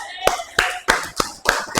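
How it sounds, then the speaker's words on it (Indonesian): A classroom of primary school children claps in unison, six sharp rhythmic claps spaced evenly and close by, with faint voices between them. "Oke, berikan tepuk tangan."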